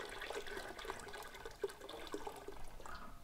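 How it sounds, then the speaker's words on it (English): Water splashes and trickles into a homebrewing pot filled over a sink, a steady faint pouring with small splashy surges and no talk. "We're gonna fill our pot up with water."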